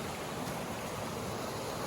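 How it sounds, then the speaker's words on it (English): A large waterfall on a river beside a campsite roars as a steady, broad wash of rushing water, close and continuous, with no talk. "It's quite a big waterfall."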